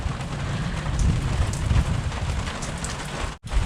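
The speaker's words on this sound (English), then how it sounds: "I just can't resist checking out a good thunderstorm" Heavy rain pours steadily during a thunderstorm, close and continuous, with a brief dropout near the end and a low rumbling underneath.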